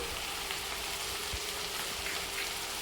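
Chicken with cumin, coriander, green chilli paste and chilli flakes frying in a pan for a gravy, giving a steady close hiss of sizzling oil throughout with faint scattered pops.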